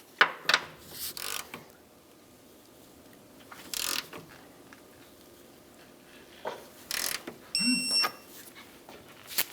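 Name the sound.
torque wrench tightening Nissan Versa engine mount bolts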